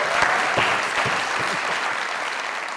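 A studio audience applauds on a Pakistani television show, a thick, even burst of clapping at moderate loudness that carries steadily throughout, with no voices over it.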